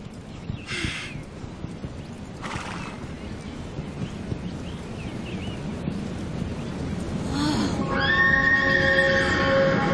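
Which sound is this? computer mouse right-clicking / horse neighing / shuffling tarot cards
horse neighing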